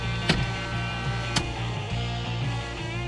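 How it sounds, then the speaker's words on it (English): Steady dashboard warning buzzer in a 1987 Chevrolet Chevette, a continuous droning tone held throughout with a couple of brief clicks over it, fairly quiet and close. "The buzzer works, so that's a good sound."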